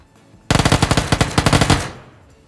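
Automatic gunfire in the battle-royale video game PlayerUnknown's Battlegrounds: one loud, rapid burst of about fifteen evenly spaced shots lasting just over a second, then a short decaying tail, with no talk.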